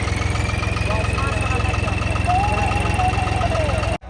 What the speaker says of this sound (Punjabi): ਲਓ ਜੀ ਹੁਣ ਖੀਲਾ ਟਰੈਕਟਰ ਲੱਗਿਆ ਚੱਲਣ ਇੰਡੋ ਫਾਰਮ